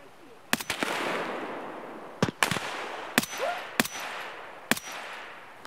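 Sharp single shots fired one at a time in Escape from Tarkov, about seven cracks spaced irregularly across a few seconds, each with a short echoing tail over quiet ambience.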